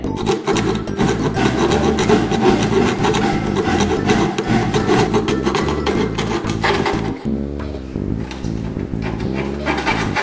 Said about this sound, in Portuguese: Serra bem, não é?